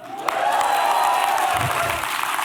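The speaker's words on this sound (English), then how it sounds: "Thank you so much for that spontaneous round of applause there" A seated audience applauds steadily at a conference talk, a continuous mass of clapping that holds level for a couple of seconds and then eases slightly.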